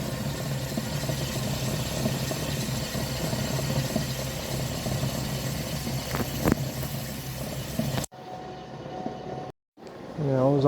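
Rear brakes of a 2016 Ford F-150 rub with the wheels spinning, heard as a steady low mechanical drone and rattle with a brief knock near the end before the sound cuts out.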